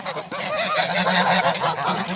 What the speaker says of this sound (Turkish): Bu da filik gazın yavrusu.